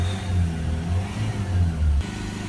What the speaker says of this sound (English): start the vehicle up, give it a few revs